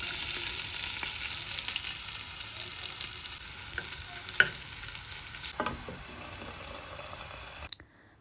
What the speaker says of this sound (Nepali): मैले चाहिँ यहाँनिर आलु छुट्टै फ्राई गर्दैछु होइन।